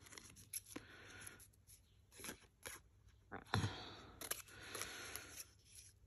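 Scissors snip through a paper envelope for a junk journal in several short, soft cuts and rustles, close but faint, with a sharper snip midway.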